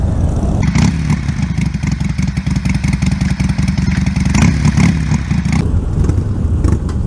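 A Harley-Davidson motorcycle rides off with a loud, close, throbbing engine rumble that rises as it accelerates, with wind and clatter over the steady low pulse.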